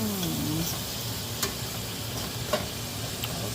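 Seafood sizzling as it is sautéed in a pan, a soft continuous frying hiss with a few light clicks of stirring, near and fairly loud.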